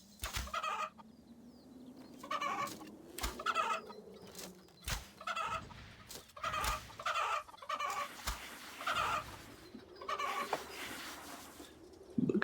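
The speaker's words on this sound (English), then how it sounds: "So let's go kill some chickens." Chickens clucking repeatedly in RuneScape, a run of short, close game-animal clucks and squawks with no talk over them.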